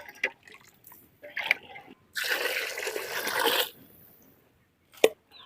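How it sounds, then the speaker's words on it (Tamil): Water is poured into a boiling pot of country chicken curry, a dense splashing pour lasting about a second and a half, framed by a few brief clinks and taps of utensils before and after. "இதுக்கு மேலே நீங்கள் போதுமான தண்ணி ஊற்றிக்கிங்க"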